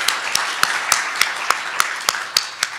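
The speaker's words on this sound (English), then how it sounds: "I would like a round of applause on their behalf." At an evening meeting, one close set of hands claps in a steady, even rhythm, about three claps a second, above a soft, diffuse wash of audience applause.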